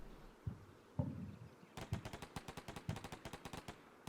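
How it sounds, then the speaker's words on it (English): Gunfire in the video game Combat Mission: Black Sea, a few scattered single shots followed by a steady rapid burst of automatic fire, sharp evenly spaced cracks at moderate distance, fairly quiet overall. "Shooting up empty buildings."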